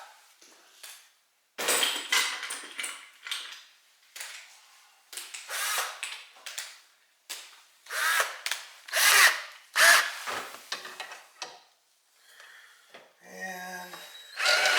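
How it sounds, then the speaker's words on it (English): A step drill bores out riveted caster wheel rivets in repeated bursts of grinding, whirring drilling, each run a few seconds long with brief silences between, close and fairly loud. "I don't know what it is with those step drills, but man, they just plow through things."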